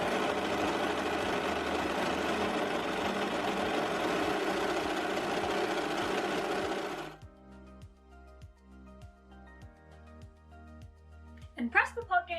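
A sewing machine runs steady and close while finishing a seam allowance on pants, then stops, leaving faint ticks and small handling clicks.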